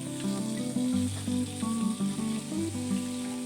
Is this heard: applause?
no